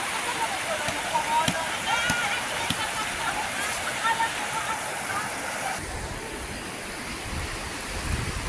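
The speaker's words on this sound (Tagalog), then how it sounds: "Nasa ilog po yung beneficiary naglalaba, si Disgay." A river rushes and splashes steadily nearby, a continuous broad wash with occasional knocks and faint voices of someone doing laundry underneath.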